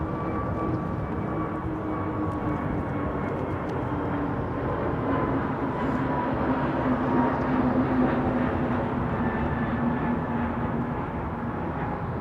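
A Boeing Dreamliner airliner at London Heathrow at sunset sends a steady, broad jet roar with a faint whining tone, continuous and moderately distant across the whole stretch, without talk.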